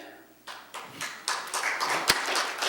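An audience at a ceremony breaks into scattered claps during name announcements, starting faintly and swelling into moderate, uneven applause with a sharp tap near the end.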